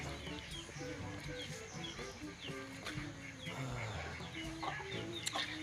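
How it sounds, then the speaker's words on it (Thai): Chickens cluck and squawk close by amid a busy, noisy scene with some talking, at a house in Thailand. "เจอไก่แล้วครับ"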